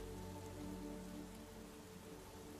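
Steady rain patters softly across the whole stretch as background ambience in a tabletop role-playing game session, faint and even with a low hum beneath, and no one speaking over it.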